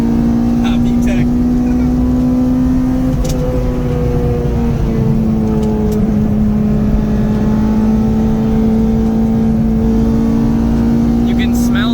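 A Honda engine climbing into VTEC on a late-night mountain touge run, loud and sustained with a steady rising drone throughout, burning oil, with occupants talking over it inside the cabin.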